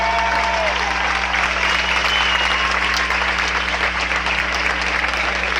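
Audience applause at a Cuban public event, steady sustained clapping from a large crowd filling the whole stretch at moderate loudness, with no voice over it.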